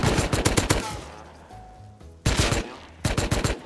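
Bursts of rapid gunfire ring out in the survival video game Rust, a loud cluster of shots followed by a lull, then two more sharp volleys near the end.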